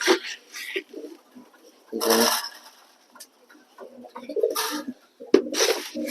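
Soft pigeon coos recur in short bursts over several seconds, mixed with occasional wing flutters and faint background noise.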